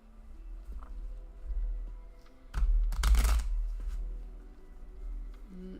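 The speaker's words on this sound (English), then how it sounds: "Wasn't a very satisfying shuffle." A deck of playing cards is riffled in one quick burst midway, a crisp flurry of flicking paper with faint handling noises before and after.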